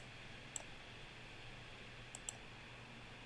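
Computer mouse clicking while perimeter totals are tracked on an aerial orthophoto, three faint sharp clicks, one early and a quick pair later, over a quiet steady room hum with no talking.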